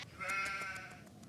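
A sheep bleats in a Nancy Drew video game, a single drawn-out, nasal call lasting about a second, fairly clear and close with no talking over it.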